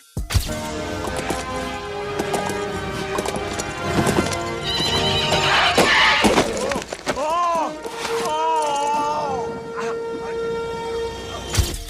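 A horse whinnies loudly while hooves clip-clop steadily during a horseback riding scene in an action film, set among a busy film soundtrack with other effects.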